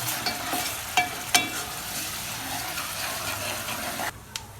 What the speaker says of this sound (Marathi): ही लसणाची ना अद्रकीची आणि कोथिंबीरची मध्ये टाकून द्यायची हिला बी मस्त असे मिक्स करून घ्यायचं